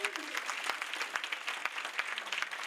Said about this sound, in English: Will you give yourselves another round of applause?